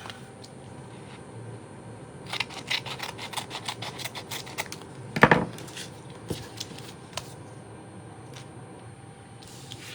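Scissors snip around a piece of white paper for a handmade shaker card, a close, quiet series of short crisp cuts in irregular bursts with a louder rustle midway and near-silence toward the end.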